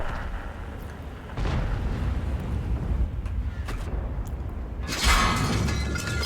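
A tank's ammo rack is hit and explodes in the World of Tanks video game: a loud, sudden crackling blast bursts out after a stretch of rumbling engine and battle noise.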